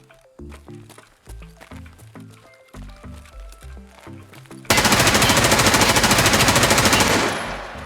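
Gunfire from an M4A1 rifle in Escape From Tarkov: loud rapid automatic bursts and shots, then a dense, sustained full-auto stream that fades toward the end.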